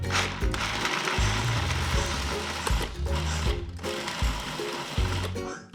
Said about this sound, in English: now we are gonna pulse with our food processor